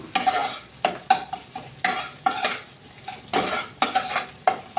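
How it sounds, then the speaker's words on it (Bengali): Chopped ingredients seasoned with salt and a little sugar fry in a pan as a spatula scrapes and knocks against the metal in a brisk, repeated rhythm over a soft background sizzle. "ভালো করে একটু লাল লাল করে ভেজে নেব"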